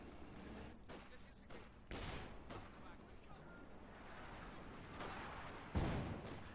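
Mortar pit firing in a Company of Heroes 2 match, several muffled booms and thumps spread over a few seconds amid battlefield noise, with a commentator speaking over it.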